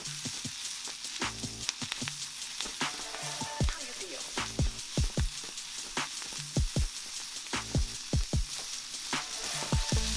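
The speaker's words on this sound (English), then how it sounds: "add the vegetables and continue stir frying until they're partially cooked" Vegetables stir frying in rendered fat, with a steady loud sizzle and repeated sharp scraping clacks of a utensil tossing the food in the pan.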